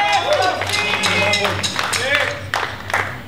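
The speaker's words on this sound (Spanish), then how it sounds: "Un aplauso para Pato." An audience claps and cheers for a band member at a live music show, a burst of applause mixed with whoops and shouting voices that rises and falls across the clip.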